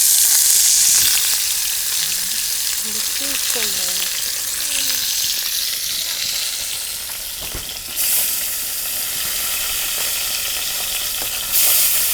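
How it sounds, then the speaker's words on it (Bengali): Food frying in a pan in a village home kitchen, with a steady, close sizzling hiss running throughout and a few brief louder crackles and stirring moments, with no talk. "ভেজে নেওয়া হচ্ছে"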